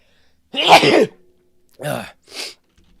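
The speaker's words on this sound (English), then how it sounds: "I gotta sneeze." A single sharp sneeze bursts out up close, followed by two short breathy sounds.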